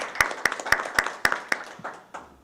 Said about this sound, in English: Let's give a hand clap to our community for supporting.